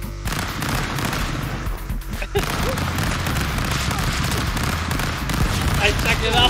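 Rapid bursts of gunfire crackle through a dense, noisy Stick Fight: The Game soundscape, with voices mixed in under the shooting.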